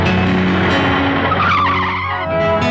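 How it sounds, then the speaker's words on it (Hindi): A car skids with a loud tyre squeal that rises into a screech midway, over a continuous engine roar, close and forceful for a few seconds. "अब वाकई गाड़ी आ रही।"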